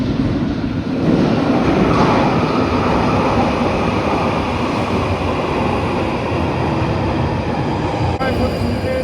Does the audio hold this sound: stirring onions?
no